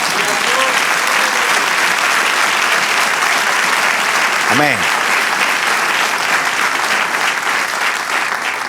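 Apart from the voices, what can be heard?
congregation applause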